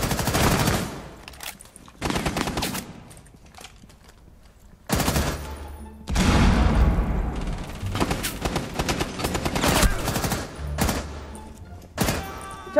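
Repeated automatic gunfire from the tactical shooter Rainbow Six Siege, loud bursts of rapid shots in several clusters separated by brief lulls, with impacts and thumps in between.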